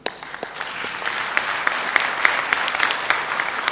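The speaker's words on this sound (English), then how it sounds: "So please give them a big round of applause." Audience applause at the Asia Media Summit 2011 closing ceremony in Vietnam, a steady dense wash of clapping with sharper individual claps popping out, sustained and fairly close throughout.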